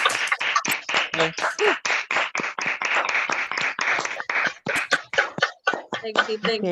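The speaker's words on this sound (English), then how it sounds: "Massive round of applause for Bron." Scattered hand claps from a small online poetry open mic audience at an LGBT fundraiser for Stonewall Housing, irregular and close, with bursts of quicker clapping toward the end.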